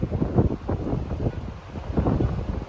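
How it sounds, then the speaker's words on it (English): Strong wind buffets the microphone in uneven gusts, a rough low roar that swells and dips with no speech. "It's a windy day"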